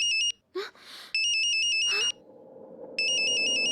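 A phone rings in loud repeated bursts, each ring pattern cutting in and out, with brief movement noises and a softer background between the rings.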